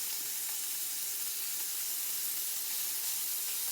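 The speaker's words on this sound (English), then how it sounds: "we're going to let that shrimp fry up" Shrimp frying in a pan makes a steady, fairly quiet sizzle and hiss that holds evenly throughout, with no talking.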